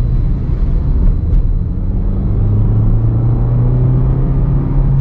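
A Maruti Suzuki Dzire BS-6 petrol car with manual transmission revving to about 4000 rpm in second gear at around 50 km/h, a loud, steady, close engine drone with low rumble throughout.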